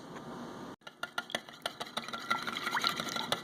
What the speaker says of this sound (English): Now we're just whisking the egg, the milk, the vanilla, and the cinnamon together